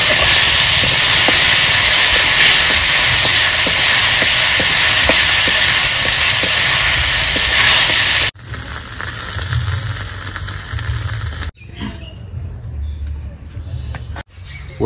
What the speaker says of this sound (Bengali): এখন ভেজে নেব আমি সুন্দর করে নেড়ে চেড়ে রসটা টানিয়ে নেব।